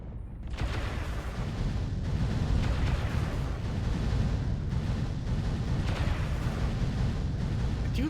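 Streak missiles chain firing from a mech in MechWarrior Online, a dense run of booming launches and blasts pounding steadily and loud without pause, with no talk over it.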